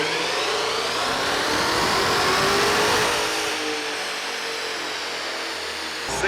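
A 2021 Dodge Charger Redeye on a dyno in 5th gear, engine roaring loud and steady under load for about three seconds, then easing off as the revs drop.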